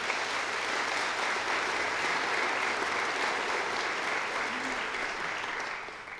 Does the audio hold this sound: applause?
yes